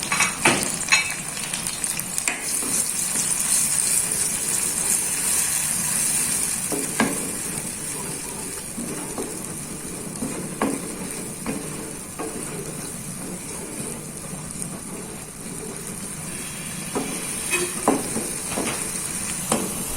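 Bruised lemongrass stalks and lime leaves sizzle in hot oil in a pan, a loud continuous frying hiss close by with occasional sharp stirring clicks scattered throughout.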